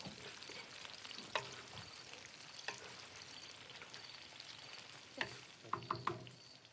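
Potatoes fry in a pan in a Ukrainian village kitchen, a steady close sizzle running throughout, with a few sharp clicks and knocks of a utensil near the end.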